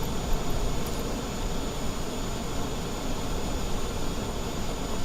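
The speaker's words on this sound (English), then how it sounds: "We'll fire up the APU." An Airbus A321 Neo auxiliary power unit spins up in Microsoft Flight Simulator, a dense, steady jet-like whoosh and roar that stays loud and even throughout with no talk over it.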